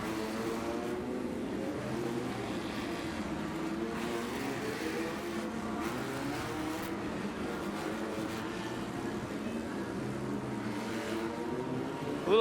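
Off-road light buggies with stock VW air-cooled 1600cc engines race at a TORC event in Chicago, a continuous engine drone carrying through the whole stretch at moderate, fairly distant volume.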